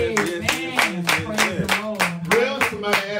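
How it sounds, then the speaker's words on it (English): A church congregation claps in steady rhythm, roughly seven or eight loud, even hand claps in a row, while voices and music carry underneath. "Come on, clap your hands and tell him thank you"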